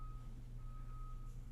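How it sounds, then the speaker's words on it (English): A vehicle's reversing alarm beeps steadily outside, a thin high tone over a low rumbling background, heard from a distance while some construction may be going on nearby. "Somebody backing up."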